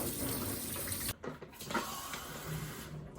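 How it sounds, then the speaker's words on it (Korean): Running tap water gushes loud and steady in a kitchen sink while something is washed, cuts off abruptly after a second, then soft splashes and handling noises follow. "더 씻을 거야. 한 세 번 더 씻어."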